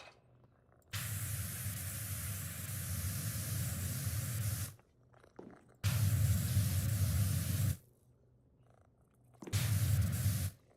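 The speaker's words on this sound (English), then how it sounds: "I hear the cat." A cat purrs in a PowerWash Simulator 2 game scene, heard in three long rough bursts of steady breathy rumble separated by short pauses, close and fairly loud.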